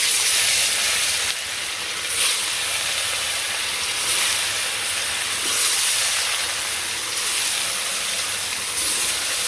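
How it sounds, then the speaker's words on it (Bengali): Fish rubbed with salt, turmeric and chilli frying in hot oil with darkened cumin seeds, giving a steady, dense hiss and sizzle that swells and eases slightly throughout, with no talking. "আর এই যে মাছগুনে লবণ হলুদ মরিচ দিয়ে মাখিয়ে নিছি। এখন ভেজে নিই।"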